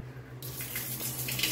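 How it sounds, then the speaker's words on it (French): A shower starts suddenly and sprays a small jet of cold water, a steady hiss of running water close by that carries on without pause and without voices. "une affaire qui sort un petit jet d'eau frette"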